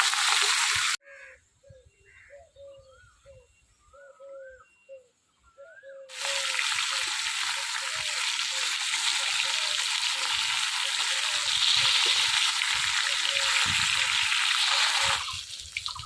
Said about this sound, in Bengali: মাছ ভাজা হয়ে গেছে, তুলে নিলাম